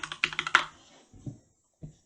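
Keys on a full-size computer keyboard clack in a quick burst of about five presses, then two separate, softer taps follow after short pauses.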